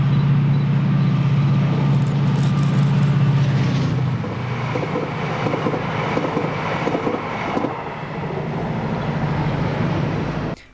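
Class 68 locomotive 68025 hauling a full TransPennine Express set through Motherwell passes as a loud, steady diesel drone with rumbling wheels, heaviest early on and then easing slightly as the train rolls by.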